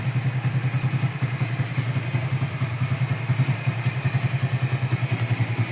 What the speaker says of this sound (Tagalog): Tahimik pa rin yung makina.